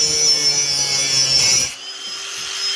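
Power saw cutting wood along a marked line during a wood chipper chute repair, a steady whining buzz that cuts off abruptly near the end, leaving a quieter hum.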